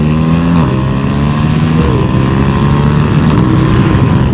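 A 2021 Yamaha R1M motorcycle accelerating through the gears during break-in riding, a loud steady engine drone whose pitch climbs, drops at shifts and climbs again, with heavy wind noise.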